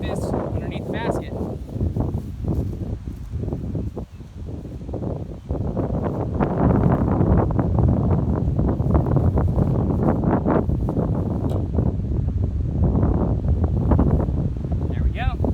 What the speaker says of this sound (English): Very windy out, as I'm sure you can hear